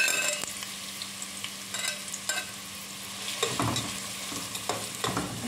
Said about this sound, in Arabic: نشقر البصله تشقير